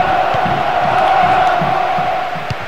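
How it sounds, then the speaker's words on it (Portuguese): Stadium crowd roaring from the stands in the Bomba Patch football game, a dense, loud, continuous cheer that eases slightly near the end. "o barulho que vem da arquibancada, esse apoio da torcida"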